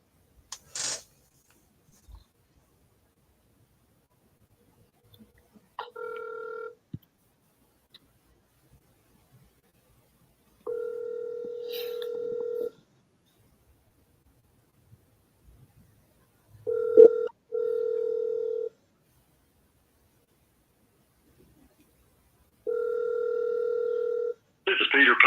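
A telephone call rings out unanswered: after a brief dialing burst, ringback tones sound in repeated bursts of about two seconds each, spaced several seconds apart, clear and alone against near silence.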